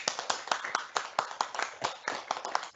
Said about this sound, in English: give you a very good round of applause